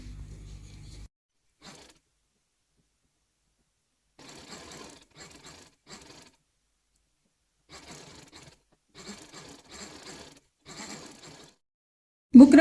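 A sewing machine stitches fabric backed with buckram for an umbrella frock, running in several short separate bursts with quiet gaps between them, then a loud knock at the very end.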